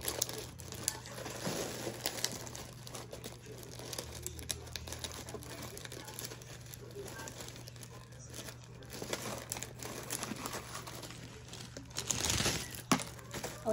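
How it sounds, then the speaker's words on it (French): Crinkling and tearing of plastic wrapping as a food package is opened by hand, a steady close rustle with a louder tearing burst near the end. "je vais essayer un peu d'ouvrir le paquet"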